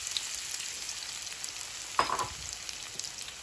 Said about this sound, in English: So let's go ahead and start cooking these potatoes